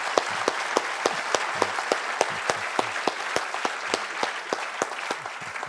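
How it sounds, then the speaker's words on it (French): Rhythmic applause at a French public lecture on couples, a hall audience clapping steadily with regular loud claps standing out over a dense crowd wash, almost without talk. "on peut encore applaudir Paul"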